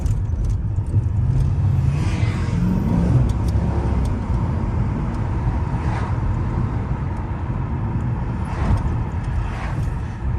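A Dodge R/T car on a two-lane street at night pulls hard off the line, its engine noise a steady, loud roar that builds and holds throughout.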